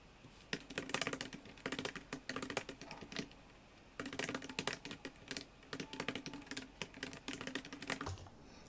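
Continuous close clatter of a computer keyboard as C++ code is typed, the rapid keystrokes coming in bursts with a brief pause near the middle and no voices.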